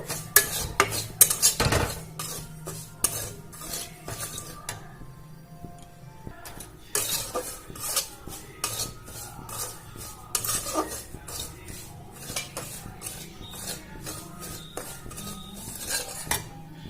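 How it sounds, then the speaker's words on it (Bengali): Semolina is dry-roasted in a pan, and a spoon stirs and scrapes against the metal. Irregular clinks and scratches sound up close, with brief quiet gaps and a faint sizzle underneath. "সুজিটা প্রথমে ভালো করে লাল করে ভেজে নেব"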